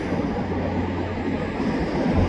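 SkyTrain and an eastbound shop train on the rails along the BC Parkway, a steady low rumble of passing rail cars, moderately loud and continuous, with no talking.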